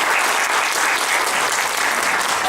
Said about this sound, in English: Big round of applause please for our panelists who took part in the discussion.